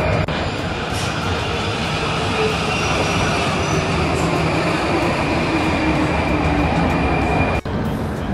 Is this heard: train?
yes